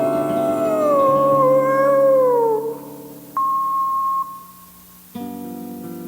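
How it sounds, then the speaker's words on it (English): A long wavering howl in a told folk tale about a coyote rises and slides downward for about three seconds, followed after a pause by a sustained steady tone and then a lower droning sound, with no talk. "Coyote sat on his haunches and howled"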